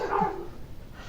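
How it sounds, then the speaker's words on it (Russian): A dog barking out in the street, a single short bark heard at a moderate distance, brief and alone. "По улице какие-то собаки бегают."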